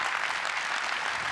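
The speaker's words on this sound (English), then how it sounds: "giving a huge round of applause to Mark from Oracle and to Swami from Visa." Conference audience at a large tech keynote general session gives a round of applause, a steady dense wash of clapping with no pauses through the short stretch.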